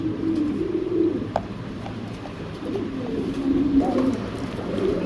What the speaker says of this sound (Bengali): দর্শক এখানে আছে এক জোড়া কবুতর, অনেক রেয়ার